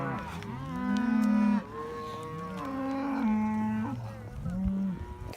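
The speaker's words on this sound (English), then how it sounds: "I'm going to be showing you the cattle drive." Cattle moo during a cattle drive, with several long, loud, overlapping low bellows from a nearby herd and no talking.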